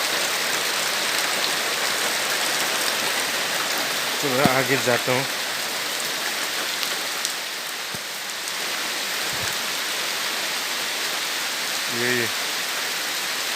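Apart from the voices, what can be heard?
heavy rain falling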